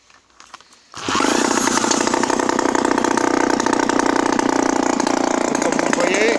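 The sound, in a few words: Peugeot 103 moped engine restarting and idling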